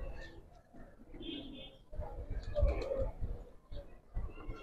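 Quality pigeons coo in soft, low bursts, fairly faint, with a few higher chirps and some background noise.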